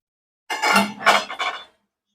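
A spoon turns and stirs methi gota fritters frying in oil on full flame, making a brief clatter of two or three metallic scrapes against the pan with silence before and after.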